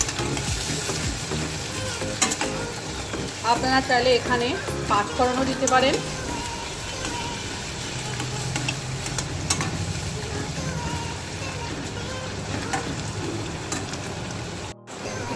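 Chopped onion fries in hot oil for cabbage ghonto, a steady sizzle with scraping stirs, while someone talks throughout over the cooking.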